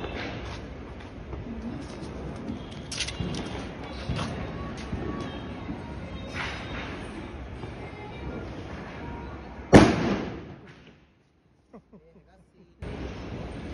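A Diwali firecracker goes off with one sharp, loud bang that rings and fades over a couple of seconds. People talk for several seconds before it, and a short silence follows.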